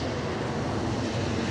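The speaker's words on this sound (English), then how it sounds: "You can probably hear a passing plane. We say it's passing, it is directly overhead." A plane passes directly overhead above a lake under a flight path, a steady broadband roar filling the air at moderate level without a break.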